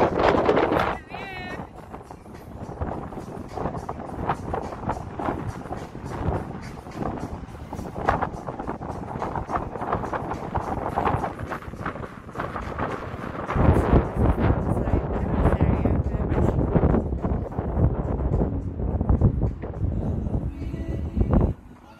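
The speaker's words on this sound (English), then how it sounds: "it's a bit windy, isn't it, Kiara?" Wind buffets the microphone with a constant low rumble at a high-rise restaurant viewpoint in Dubai, growing stronger toward the end, while people talk over it.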